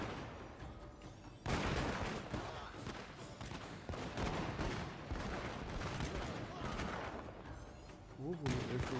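Volleys of arquebus and tanegashima musket fire crackle in a Shogun 2 unit battle, dense overlapping shots and booms rolling on for several seconds after a quieter start, with a voice speaking briefly.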